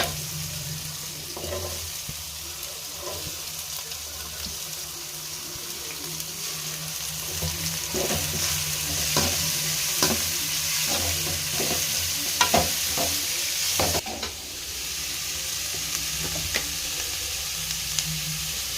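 Mixed vegetables stir-frying in a pan over tomatoes for veg fried rice, a continuous close sizzle broken by repeated scraping and stirring clicks of a spatula.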